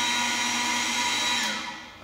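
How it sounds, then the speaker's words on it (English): A vacuum pump on a dry gas meter station runs with a steady whirring hum, then winds down and fades as it stops. "switch the vacuum pump on using the on-off switch at the top"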